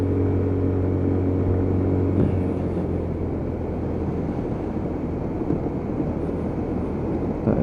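A Lexmoto Titan motorcycle makes a high speed run, its engine droning steadily before the sound turns to a broad rushing roar of wind and road noise that holds throughout.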